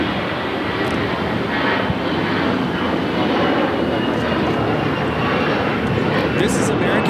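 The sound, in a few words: American Airlines Airbus A321 jet taking off at LAX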